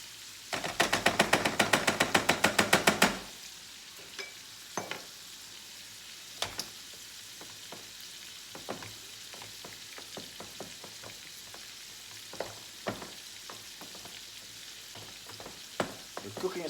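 Bacon frying in a pan for a Dutch dish, opening with a few seconds of rapid, loud rhythmic scraping as it is stirred, then settling into a soft sizzle broken by scattered sharp crackles and pops.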